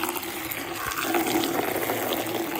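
Water runs steadily from a tap for the whole stretch into cleaning product for washing a bike, a continuous close splashing flow.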